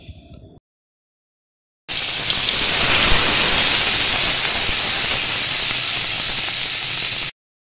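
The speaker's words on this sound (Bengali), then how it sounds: "কড়াই গরম হয়ে গেলে তাতে সর্ষের তেল দিয়ে তাতে একটা গোটা পেঁয়াজ কুচি, 2 কোয়া রসুন কুচি আর 2টো লঙ্কা কুচিয়ে ভাজতে দিয়ে দেব" Chopped onion, garlic and green chili hit hot mustard oil in a kadai, a loud, steady sizzling hiss that starts abruptly after a brief pause and holds evenly for about five seconds before cutting off.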